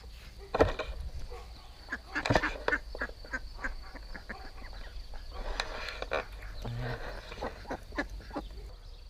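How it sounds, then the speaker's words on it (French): Domestic ducks quacking in scattered short bursts, moderately near but fairly quiet, over a low steady background hum with a faint voice now and then. "Si je pouvais, j'aurais 20 canards."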